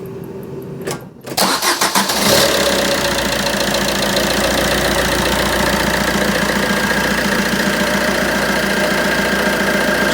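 An old car engine with 140,000 miles cranks briefly, catches, and settles into a steady, slightly ticking idle that runs on loudly and evenly, with no talking.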